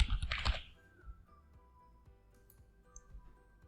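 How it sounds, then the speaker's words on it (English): Keystrokes on a computer keyboard while entering settings in trading chart software: a quick cluster of loud taps at the start, then sparse faint clicks over a quiet background. "here I'm gonna type in 200"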